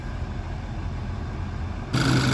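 An Audi A3 or VW Mk6 Golf engine idles steadily while warming up, a low continuous hum at moderate level, with a slight rise in loudness near the end.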